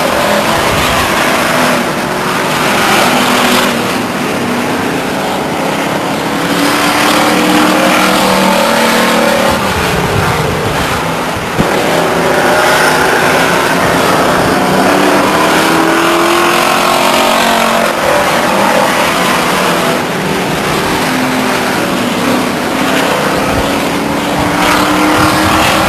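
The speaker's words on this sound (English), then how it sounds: "Battle between the 75 car and the 94 car as the 3 car does a pirouette on the backstretch and pulls it off clean." Race cars scream around the oval at Stockton 99 Speedway, a loud, dense, continuous wash of engines passing and revving with repeated surges as the pack goes by.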